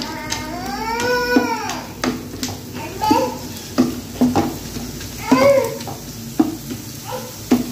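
Potato chips fry in oil with a sizzling crackle and occasional utensil clinks, heard beneath nearby voices, including someone talking.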